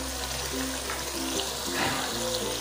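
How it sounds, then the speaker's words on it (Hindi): Water poured from a cup into a pan of cooking chicken and green beans, a steady, close splashing and gushing pour running throughout. "और 1 कप पानी हम डाल देंगे ताकि मिक्स हो जाए सारे मसाले वगैरह यकजान।"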